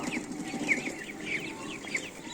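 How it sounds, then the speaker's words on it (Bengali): Ducklings peep in repeated high, chirpy calls close by, a few distinct cheeps standing out over soft background noise. "খুবই সুন্দর আছে আমার হাঁসের বাচ্চা"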